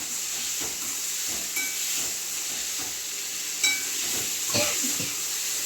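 Chopped tomatoes sautéing in a pan for a liver gravy, a constant bright sizzle and hiss close up, with a couple of sharper spoon or pan knocks near the end and no speech.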